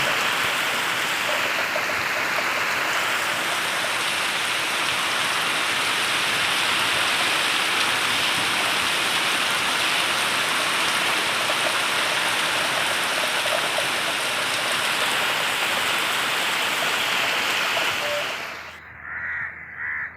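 Heavy rain pours down steadily on Koyilagudem village in a dense, hissing roar for the whole stretch, then cuts off abruptly near the end.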